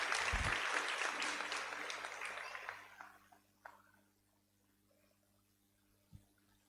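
An audience at a Telugu Christian gathering claps loudly to welcome a speaker, dense applause that fades out over about three seconds, followed by near quiet with a couple of faint knocks.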